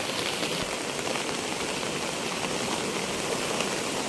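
Heavy rain pours down over a village beside a rising river, a loud, steady, unbroken hiss of falling water with no voices.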